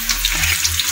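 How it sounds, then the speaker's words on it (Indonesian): Shallots and garlic hitting smoking-hot oil in a stir-fry, a loud, dense sizzle that crackles and hisses continuously at close range without talk. "Langsung kita tumis."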